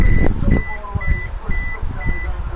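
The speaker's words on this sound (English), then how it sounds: "the car will chime a few times to let you know that it's lost detection of the proximity key detector" A 2014 Suzuki Swift Sport chimes as the proximity key leaves range: several short, evenly spaced electronic beeps, fairly close and clear, over a low rumble of background traffic or wind.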